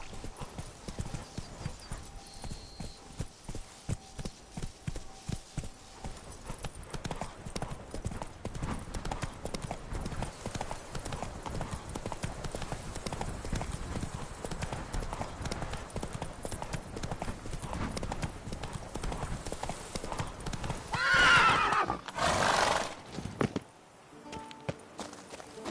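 Roach the horse in a video game, hooves clip-clopping steadily at a trot through most of the stretch, then a loud neigh near the end before a brief quiet gap.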